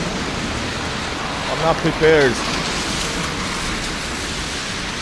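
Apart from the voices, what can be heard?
heavy rain on a city street in St. Petersburg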